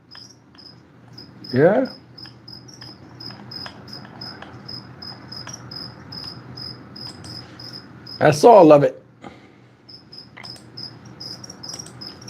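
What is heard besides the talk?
crickets chirping in frog enclosure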